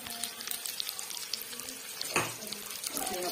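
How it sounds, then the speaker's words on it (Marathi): Water pours from a tap into a pan of stuffed brinjals, a steady splashing stream with a brief louder gush near the end, close by, with no talk. "याच्यामध्ये पाणी टाकणार आहे."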